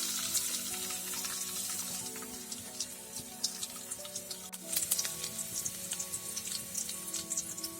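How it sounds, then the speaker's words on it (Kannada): Six or seven small-cut garlic cloves fry in oil for a chicken cutlet, giving a steady, close, crackling sizzle with scattered pops and a few stirring clatters throughout, with no voices. "ಚೆನ್ನಾಗಿ ಎಣ್ಣೆಯಲ್ಲಿ ಫ್ರೈ ಆಗಬೇಕಿದು"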